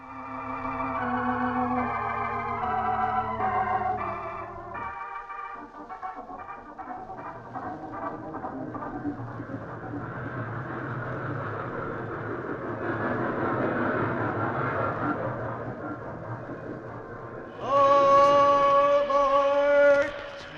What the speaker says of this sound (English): Still hear trains.